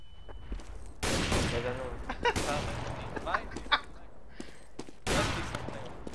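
Bursts of video game gunfire crack out in sharp volleys, with loud sustained firing at the start and again near the end, while players talk over it.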